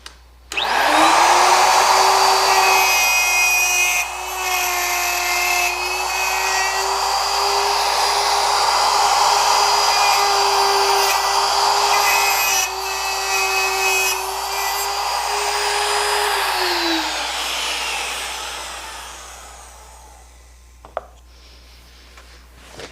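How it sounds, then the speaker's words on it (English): Router fitted with a dovetail bit cutting wood dovetails in a jig, a loud, close, steady high whine for about fifteen seconds that winds down and stops, followed by a faint click. "Now I'll follow around there again with the dovetail bit,"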